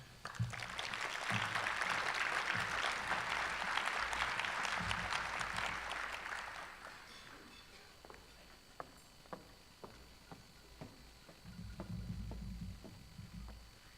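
An audience at an Iowa STEM education summit lunch session applauds Governor Branstad, a dense, sustained wash of clapping that fades after about seven seconds, leaving scattered claps and room noise.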